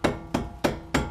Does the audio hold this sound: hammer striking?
yes